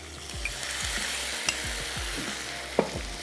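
Stock poured into a sauce of soy sauce and orange and lemon cooking in a pan, sizzling steadily while a spoon stirs and scrapes in a repeated rhythm, with no talk.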